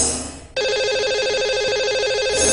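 Telephone ringing as a call is placed to a lucky caller on a live show, a steady electronic ring tone starting after a brief pause and holding loud and unbroken.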